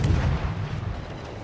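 Warship guns in World of Warships boom in heavy, rumbling artillery blasts, a dense low roar that fills the whole short stretch with no voice over it.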